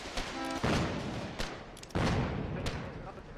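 Artillery guns firing in the game Foxhole, with two loud booming shots about a second apart followed by rumbling echoes, and a third sharper report near the end.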